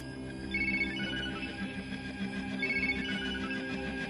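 A phone ringtone chimes faintly in repeating bursts over a low background hum, with no one speaking.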